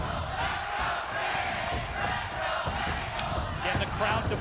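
A wrestling arena crowd at a Hardcore Justice main event roars steadily, with a dense wash of cheering and shouting that holds at a constant loud level throughout.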